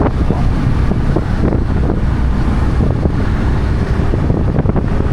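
Strong wind roars steadily across the microphone in San Rafael, Palawan, a loud, constant rushing buffet with no pauses throughout.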